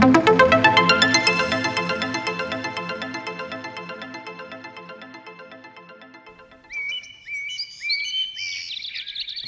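A little bird gives a quick series of bright, high chirps near the end, following a long fading chime-like melody, with no voices.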